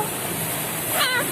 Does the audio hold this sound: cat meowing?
yes